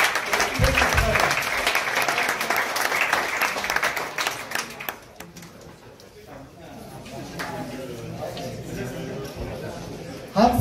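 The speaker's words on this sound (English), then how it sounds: "Again, an applause for the Christmas present." Audience applause at an IOTA crypto community meetup in Berlin, a dense round of clapping for about five seconds that thins out, followed by lighter scattered clapping and murmuring with some speech underneath.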